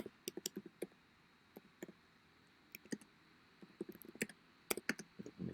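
Irregular typing on a computer keyboard while coding a React front-end: quick bursts of close, crisp key clicks with brief pauses between runs, alone without speech over a faint steady hum.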